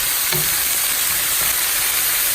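Cabbage and red onion hit a hot pan and sizzle loudly and steadily, a bright, continuous frying hiss with a few soft stirring knocks near the start.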